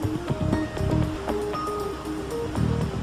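Open water of the Bosphorus Strait, the narrow channel between Asia and Europe, washes and splashes steadily at moderate loudness, with a faint low hum and scattered tonal traces over the surf-like wash.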